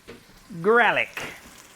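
Garlic frying in a home kitchen pan, a soft steady sizzle running the whole time beneath a brief voiced sound in the middle.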